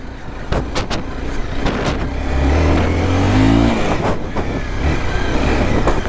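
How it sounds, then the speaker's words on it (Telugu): A Honda CBR 250R motorcycle on an off-road hill ride, its engine revving and rising in pitch, then dropping back, loud and close, with wind buffeting and bumps over the rough track. "CBRతో ఆఫ్ రోడింగ్ ఈ రేంజ్లో నేనే చేస్తూ ఉంటా, ఎవరు చేయరు."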